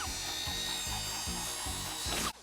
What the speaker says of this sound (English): why does the spin dash sound like a goddamn chainsaw?